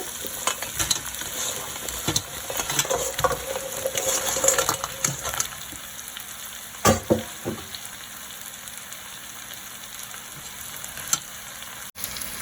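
Fried crab is tipped into a pan for Malaysian-style black pepper crab and sizzles loudly at close range, with stirring scrapes and clatters that ease off into a steady quieter frying.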